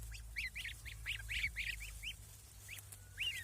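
Repeated high, thin peeping calls from several goslings, clustered and overlapping, over a steady low rumble of background noise.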